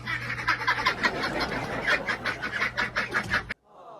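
Ducks kept inside a Marine barracks room, a run of rapid, fairly close quacks and clucks repeating steadily for several seconds before cutting off abruptly, with a low steady hum beneath.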